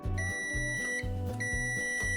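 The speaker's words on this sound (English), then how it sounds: "testing the horn with a continuity tester" Continuity tester beeping while checking a tractor horn circuit, a series of short electronic beeps in a quick, slightly uneven rhythm, close and clear.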